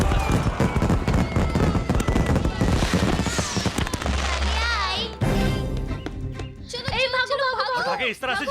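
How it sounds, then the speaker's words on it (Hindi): Lit firecrackers burst in a loud, busy jumble of sharp cracks over dense music and voices, with a brief quieter gap before more crackling and shouting near the end. "जलता हुआ फटाका फेंका तूने मुझ पर"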